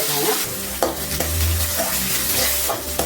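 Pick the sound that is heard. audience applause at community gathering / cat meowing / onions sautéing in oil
onions sautéing in oil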